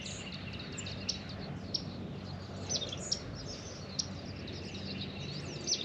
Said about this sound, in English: these birds are just playing like crazy.